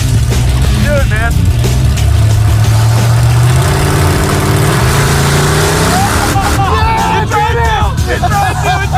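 A big dump truck engine drones loudly, then rises and changes pitch as it is revved hard during a wheelstand attempt, with people shouting over it close by.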